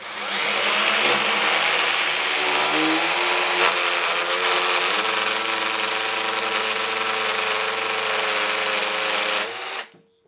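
A Black & Decker Matrix system fitted with its router attachment runs continuously at a steady high-pitched whine while cutting, loud and close, then abruptly shuts off at the end.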